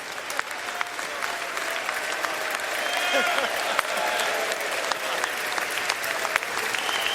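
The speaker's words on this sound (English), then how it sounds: "Who is not standing and applauding right now?" A standing audience in a legislative chamber applauds steadily and densely throughout, a continuous wash of clapping with occasional sharper claps and faint crowd murmur.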